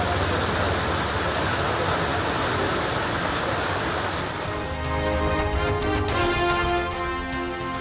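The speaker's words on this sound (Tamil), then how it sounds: "திருவள்ளூர் மாவட்டத்தின் பல்வேறு இடங்களிலும் கனமழை." Heavy rain pours steadily across districts of Tiruvallur in Tamil Nadu, a dense, loud hiss of downpour throughout, with some tonal broadcast sound creeping in toward the end.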